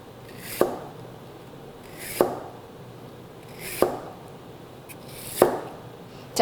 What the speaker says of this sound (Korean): 자, 이렇게 썰어서 준비해 주시고요.